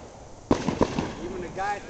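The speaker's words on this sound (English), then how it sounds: "at least 4 or 5 other neighbors are doing fireworks right now" Neighborhood fireworks set off on a June night: a sudden loud bang followed by several sharp pops and crackles nearby, then a fading rumble and a faint whistling tail.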